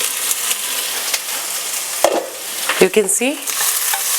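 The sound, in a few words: onions sauteing in a pot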